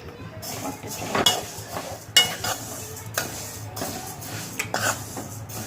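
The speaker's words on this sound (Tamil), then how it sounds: "அதனால் நல்லா சூடு பறக்க வறுக்கணும். கருகாமல் நல்லா வறுக்கணும்." Moong dal dry-roasting in a pan for ghee laddus, stirred with a metal spatula in irregular scraping sweeps and sharp clinks against the pan over a faint crackle, close and moderately loud.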